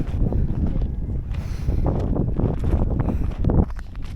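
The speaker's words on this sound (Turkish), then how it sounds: "öyle bir rüzgar esiyor ki beynim uyuştu şu anda" Strong mountain wind in Kayseri, Turkey, buffeting the microphone in continuous loud, rumbling gusts, with faint rustling underneath.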